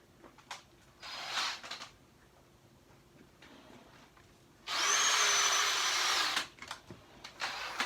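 A small polishing wheel on a power tool works the edges of a Honda CB engine, whirring loudly in two bursts, one short and one longer and steadier, with quiet pauses between.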